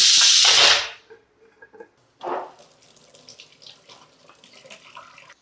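Water pours in a strong, close burst at the start while rice and dal cook for a curd-rice dish, then cuts off, leaving faint kitchen clatter and a brief splash afterward.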